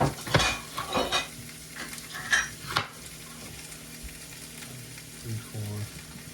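Halved sweet peppers go into a hot pan, scraping and clattering with a stirring utensil over a steady sizzle, then settle into quieter frying with a few light knocks of cookware.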